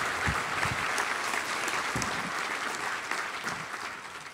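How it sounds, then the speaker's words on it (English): Audience applause for award nominees at a law enforcement awards ceremony, a steady wash of clapping from a large room that tapers slightly toward the end. "An applause for all the nominees."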